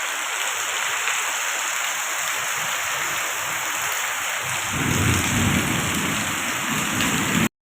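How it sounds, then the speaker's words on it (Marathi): Heavy morning downpour during a thunderstorm in coastal Konkan, a dense steady roar of rain with low rumbling thunder swelling loud partway through, no voices. "मगासपासून गडगडा आणि विजा चमकतात आणि आता अचानक पाऊस चालू झालेला"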